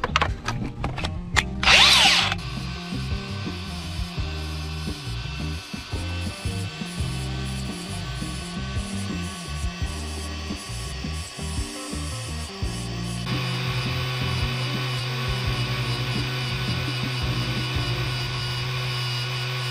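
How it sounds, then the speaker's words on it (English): A Milwaukee cordless grinder sharpens dull shrub trimmer blades, with a sharp scraping burst at the start and then a steady motor whine with grinding contact that shifts in pitch partway through, close and continuous, with no talk. "I gotta sharpen these shrub trimmers. They're getting pretty dull. This Milwaukee grinder's dope."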